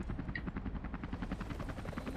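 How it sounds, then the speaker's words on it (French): A helicopter in the video game Rise of the Tomb Raider, its rotor giving a fast, rhythmic low thudding chop, steady and moderately close, heard alone. "Encore un hélicoptère?"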